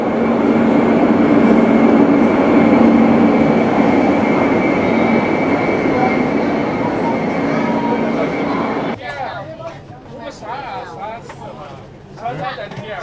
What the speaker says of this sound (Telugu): సో మనం వెళ్ళే ట్రైన్ అయితే వచ్చేసింది, ఇదే అనమాట.